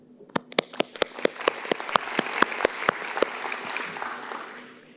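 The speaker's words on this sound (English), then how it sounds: "giving them a round of applause as well" Attendees at a data-mining conference closing ceremony clap, starting with a string of distinct, evenly spaced sharp claps that thicken into a brief wash of applause before fading out.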